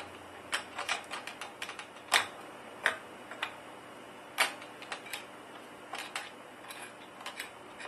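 Small screws being driven to fasten a Cooler Master Hyper 212 Evo CPU cooler onto a motherboard, heard as a string of sharp, close metallic ticks and clicks at an irregular pace over a quiet background.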